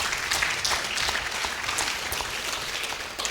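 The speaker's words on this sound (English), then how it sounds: "I think that also deserves a round of applause." A large audience at a humanitarian response plan launch in Nigeria claps steadily and warmly throughout, a dense continuous applause with no voices standing out.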